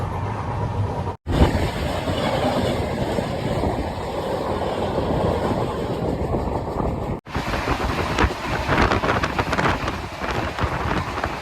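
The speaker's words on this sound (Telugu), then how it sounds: "మన విశాఖ ఎక్స్ప్రెస్ పలాస నుంచి 1 గంట డిపార్ట్ అయిందండి" Visakha Express train running after leaving Palasa, heard from inside an old second AC coach: a loud, continuous rumble and rattle of wheels on track, with two brief dropouts, and no voices.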